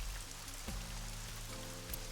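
Steady rain falling in a video game, a continuous close hiss of drops on a surface running alone throughout, with low game tones underneath.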